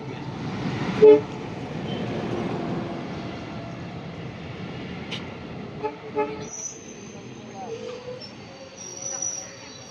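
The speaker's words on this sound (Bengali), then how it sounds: "লাস্ট ট্রেন তো চলে আসলো, ওঠা যাক।" A Katihar–Siliguri Intercity Express arrives at a station platform, sounding a horn over the rumble of the approaching diesel train, with people talking nearby and a further horn toot toward the end.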